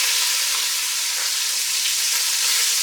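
Meat pieces searing meat side down in a hot pan over medium-high heat for a rustic ragu, giving a loud, steady, close sizzle that runs unbroken throughout with no talking.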